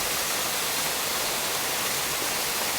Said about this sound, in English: waterfalls back in here